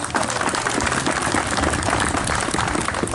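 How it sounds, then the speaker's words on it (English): Outdoor crowd applause at a Veterans Day ceremony in a memorial park: dense, continuous clapping from a gathered audience, steady and fairly loud throughout with no voices on top. "Let's give him another round of applause"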